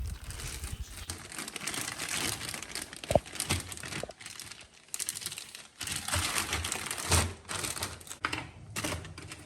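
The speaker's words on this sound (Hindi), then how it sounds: "अब मैं इन फ्रोज़न क्यूब्स को ज़िप-लॉक बैग्स में पैक करके फ्रीज़र में रख देती हूँ।" Frozen cubes packed into zip-lock plastic bags in a home kitchen, giving a steady, close run of crinkling plastic and clicking, crunchy rattles across the whole stretch, with brief quiet gaps.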